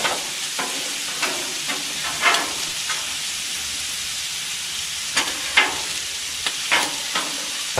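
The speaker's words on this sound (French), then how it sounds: "On peut rajouter nos petits oignons." Small onions tossed into a hot pan with meat and potatoes fry with a continuous, close sizzle, broken by regular spatula clicks and stirring scrapes every second or so.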